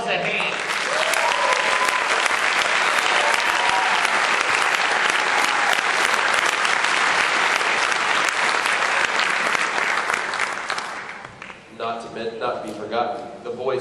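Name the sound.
audience applause at marching band concert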